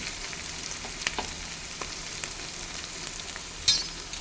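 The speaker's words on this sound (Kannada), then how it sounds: "ಶುಂಠಿ ಬೆಳ್ಳುಳ್ಳಿ ಹಸಿ ವಾಸನೆ ಹೋಗೋವರೆಗೂ ಸ್ವಲ್ಪ ಫ್ರೈ ಮಾಡ್ಕೋಬೇಕು." Ginger garlic paste fries in hot oil with cumin seeds, giving a continuous, even crackling sizzle at close range with a few small pops and a brief clink near the end.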